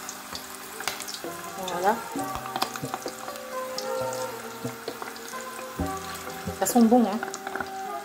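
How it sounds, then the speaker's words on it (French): Kafta meatballs cook slowly in a pan with a steady sizzle and crackle, joined by clinks and stirring, while someone talks over it. "Maintenant, on va cuire la viande, tout doucement."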